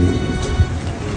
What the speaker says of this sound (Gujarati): મસ્ત મજાનો વરસાદ પડી રહ્યો છે